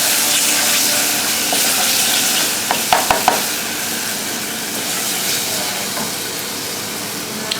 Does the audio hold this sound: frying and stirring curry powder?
yes